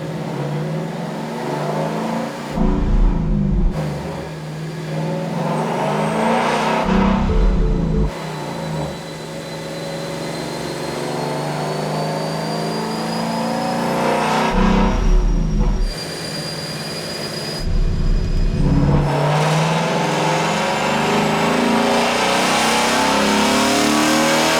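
A 2015 Ford Mustang GT V8 with simple mods runs on a dyno, engine note climbing through long loud pulls with whining rollers, punctuated by several sharp shifts where the roar dips and resumes.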